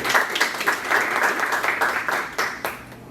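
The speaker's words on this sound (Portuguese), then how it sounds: "Palmas para o senhor Guilhermino." Audience at a coffee industry panel applauding, steady moderate clapping from a room of people that fades slightly toward the end.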